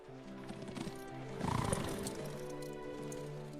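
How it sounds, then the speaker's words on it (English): Horses whinny while hooves clop, a steady, fairly close mix with a louder burst of activity midway and no talking. "Get the horses ready."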